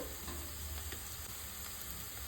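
Onions and ginger paste fry in a pan with a faint, even sizzle and hiss that holds steady over about two seconds, with a couple of soft stirring ticks and no talking.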